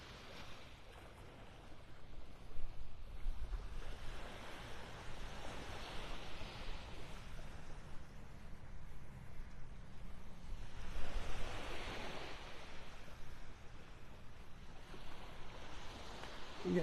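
Gentle surf rolls onto a beach in North Naples, Florida, faint broadband washes swelling and fading in slow surges about every six seconds, with breezy noise in between and no talk.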